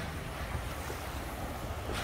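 Ocean surf at a swimming hole on the Costa Rica coast washes steadily, a broad continuous rush of waves mixed with wind buffeting the microphone, no talking.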